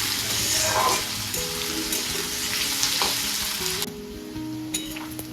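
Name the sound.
onion and potato frying in a pan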